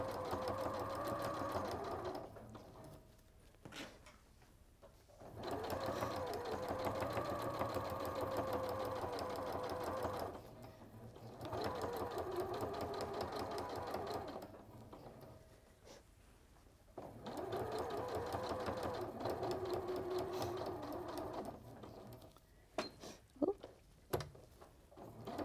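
A sewing machine stitches a circle grid in quiet bursts of fast, even chattering, running for several seconds at a time with short pauses and a few clicks between runs, and no talking.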